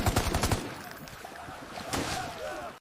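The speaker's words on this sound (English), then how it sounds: "We're taking heavy fire!" Heavy gunfire in an animated Vietnam War battle at the Khe Sanh firebase: a rapid burst of automatic shots opens, followed by rumbling combat noise and another sharp blast near the end.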